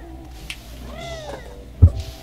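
A pet cat meows faintly in the background, a few short rising-and-falling calls under a low room hum, followed by a brief thump near the end.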